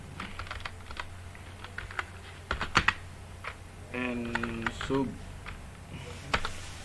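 Code is typed on a computer keyboard for a VB .NET form, with irregular clicking keystrokes and a short burst of quicker typing partway through, close and clear over a quiet room hum.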